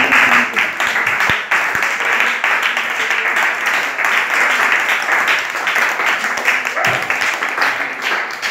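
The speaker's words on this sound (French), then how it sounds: "Est-ce qu'on peut donner, acclamer un peu les choses?" An audience at a gathering with children bursts into sustained applause and cheering, a loud, dense, continuous patter of clapping with voices mixed in, lasting several seconds without a break.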